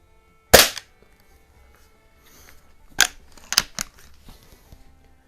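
A .22 air gun firing a used large rifle primer gives one sharp, loud crack, then after a pause a few smaller clicks and snaps close by as the gun is handled, with no talking.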